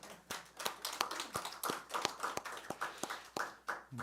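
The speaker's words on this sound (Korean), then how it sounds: "우리 박수 한번 쳐주시기 바랍니다" Members of a church congregation clap together in a quick, brisk burst, many hands beating at once with an irregular patter, moderately near but fairly soft overall.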